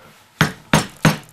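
A hammer lightly tapping a small block of wood during a DIY stove build, three sharp, distinct knocks spaced about a third of a second apart, close and clear with no talking.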